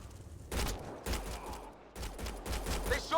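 Rapid bursts of gunfire in a Mass Effect: Andromeda firefight, several loud volleys of shots in close succession with brief gaps between them, no talking.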